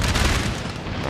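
Artillery fire striking infantry in Napoleon Total War, a single loud, close boom with a heavy low rumble that fills the whole short moment.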